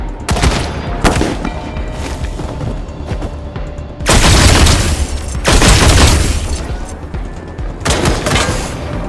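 Gunfire in the video game Wasteland 3, played on PS5/PS4: repeated loud bursts and volleys of shots, some brief cracks and some sustained fusillades, close and dense, with heavy booming impacts between them and no talk.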